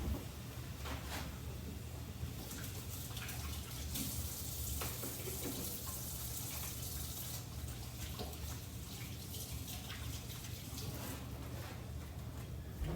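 A kitchen tap runs steadily while hands are washed beneath it, a continuous close splashing hiss broken by small clatters and shifts in the flow.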